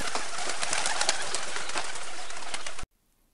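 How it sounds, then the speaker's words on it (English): A bird coos and chirps steadily over a dense, hissy outdoor wash for almost three seconds before the sound abruptly cuts to silence. "a bird flying in the sky."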